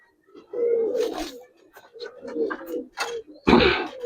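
Giribaz pigeons coo in short, close, throaty bursts that repeat in a loose rhythm, with brief pauses between calls.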